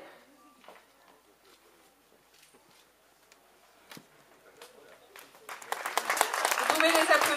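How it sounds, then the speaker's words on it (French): Audience applause for a group at a dance contest, rising from a quiet room into sustained, fairly loud clapping over the last two seconds, with scattered handclaps and murmuring before it. "Vous pouvez les applaudir."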